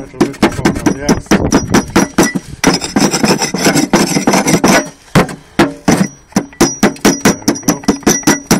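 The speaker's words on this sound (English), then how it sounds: "Scrub a little bit before we have the axe." Antique brick being scrubbed clean for recycling, a loud close run of sharp rhythmic rasping strokes, brief pauses between bursts.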